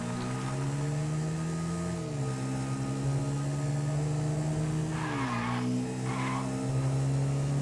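Car engine driving in the game GTA V, a steady droning hum with pitch dips as it shifts, plus brief tire skids around five and six seconds, with no talking.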